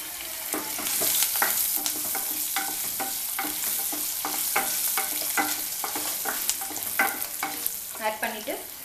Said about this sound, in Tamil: இதில் கொஞ்சம் மஞ்சத்தூள், டர்மரிக் பவுடர் வந்து ஆட் பண்ணிக்கிறேன்.